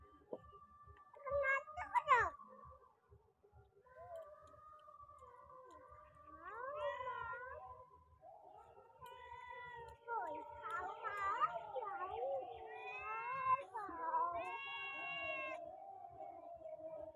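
A cat meows repeatedly in a garden, its drawn-out, wavering cries coming close and loud at irregular intervals under a woman calling to it.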